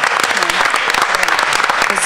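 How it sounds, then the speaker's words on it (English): A crowd at a school board meeting claps steadily and loudly, a dense, continuous round of applause with no pauses. "I think we should have a round of applause for Mr. Stasiak"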